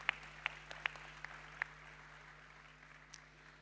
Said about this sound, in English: A round of applause for Ambassador Priya.